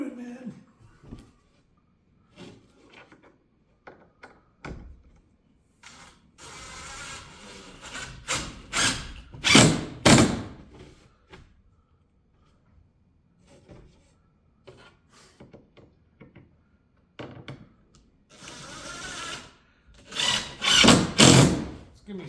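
Screws being driven into plywood for insulation in a slide-in camper: scattered light clicks and rubbing, then two louder bursts of whirring and grinding from the driver and wood, with quiet gaps between.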